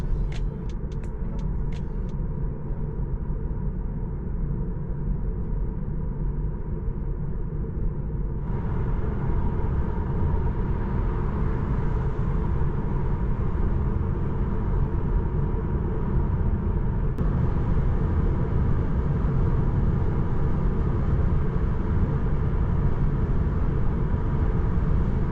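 Inside a 2024 Tesla Model 3 RWD on all-season tyres with bonded glass, a steady road and wind roar fills the cabin at speed, loud and unbroken, with a few faint clicks at the start.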